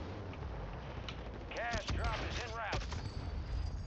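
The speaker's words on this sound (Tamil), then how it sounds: "நான் தான் M16 வச்சு ஷூட் பண்ணேன்." M16 rifle gunfire in the video game Warzone 3 sounds as steady game combat noise under a player's voice, with short sweeping electronic tones in the middle.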